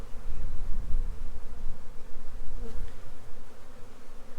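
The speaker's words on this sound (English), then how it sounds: "here's a drone being born out of that comb" Honeybees at a backyard hive during a spring inspection, with a drone emerging from the comb, make a dense, continuous close buzzing hum that stays steady throughout.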